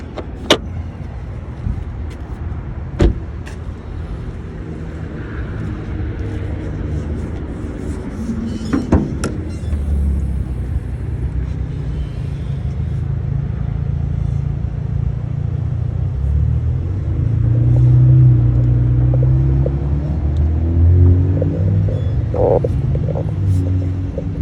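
A Kia car idles steadily after a replacement motor has been installed, a low continuous rumble that swells slightly toward the end, with a few faint clicks and knocks from the vehicle on top.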